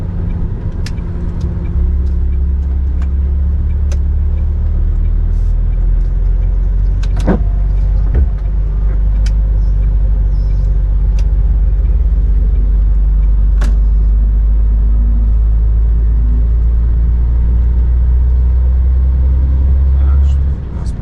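A car driving along a road in the hills of Manchuria gives a steady, loud low rumble of engine and road noise throughout, with occasional faint clicks and knocks inside the cabin.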